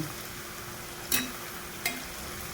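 Thinly sliced onions, cut lengthwise, frying in hot oil for a crispy beef snack mixture; a steady soft sizzle runs throughout, broken by two sharp stirring clatters.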